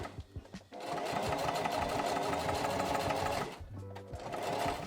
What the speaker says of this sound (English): And now I need to sew the straps, this flap on this handle, and include the straps in there.